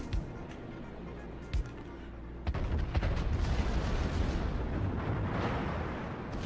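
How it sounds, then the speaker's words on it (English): Warship gunfire in World of Warships during a naval battle: a couple of sharp early booms, then a sustained rumbling barrage of heavy cannon fire with rolling low-end thunder that continues to the end. "Concentrate fire on the enemy warship."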